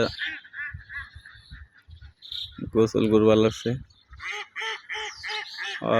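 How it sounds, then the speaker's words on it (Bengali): Ducks at a farm project give a loud burst of honking quacks midway, set against someone talking before and after. "এর পরে দেখ হাঁসগুলো কত মজা করে"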